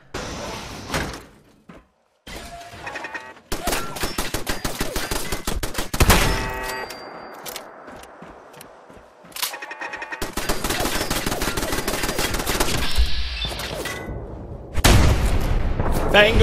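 Gunshots in the Fallout 4 video game, loud close bursts of rapid fire in several stretches, broken by quiet gaps and heavier impact hits, with someone talking over parts of it.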